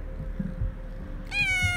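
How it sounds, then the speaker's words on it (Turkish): A cat gives one clear, close meow rising out of low indoor room noise near the end, with no talking over it. "Burada da bir tane kedimiz var."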